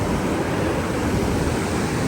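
Big ocean waves wash onto a beach in Vietnam, a steady broadband roar of surf with some wind buffeting, continuous and close throughout.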